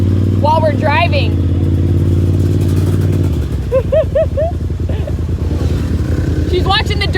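Dirt bikes pass on an off-road trail in the Hatfield-McCoy Trail System. Their loud engines drone continuously, and the pitch drops partway through as they go by. Short, high, rising whines recur over the engine noise.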